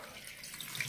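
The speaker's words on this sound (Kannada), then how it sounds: "ಈಗ ಈ ನೀರ್ ಕುಡಿಯೋ ಗ್ಲಾಸ್ ಅಲ್ಲಿ ನಾನು ನಾಲ್ಕು ಗ್ಲಾಸ್ ಆಗುವಷ್ಟು ನೀರ್ ಹಾಕ್ತೀನಿ" Water poured from a drinking glass into a pressure cooker while making village-style drumstick leaf rasam, a short faint trickle heard on its own.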